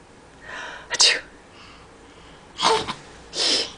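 A person gives playful sneezes while playing with a small child: three sharp, breathy bursts close to the microphone, separated by brief pauses and soft sniffing.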